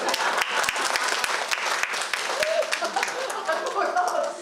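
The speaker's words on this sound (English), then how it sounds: "I think even I deserve a round of applause" Applause from an audience at a women entrepreneurs' enclave marking World Yoga Day, dense continuous clapping across the whole stretch, fairly loud and close, with a voice and some chuckling mixed in.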